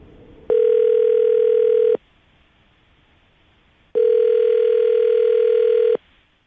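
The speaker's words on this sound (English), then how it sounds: "I'm going to dial the phone number right now, get him on the phone" Two steady telephone tones of about 1.5 and 2 seconds each, separated by a short silence, heard while a phone call to a radio show listener connects; clear and alone with no talk.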